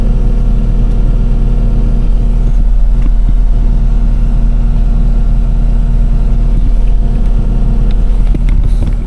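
A handy forestry mulcher's engine running steadily at high speed, a loud continuous droning roar with a strong low hum and slight fluctuations, close by, with no talking.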